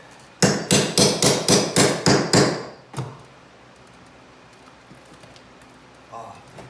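A wooden window sash on an old museum building is worked loose with about eight sharp, evenly spaced hammer strikes, close and loud. A faint knock follows, then quiet shuffling.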